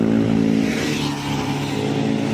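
Heavy container trucks rumble past on a city street in Maros on a late afternoon, a steady, loud low engine drone with some revving that swells and holds throughout, close by.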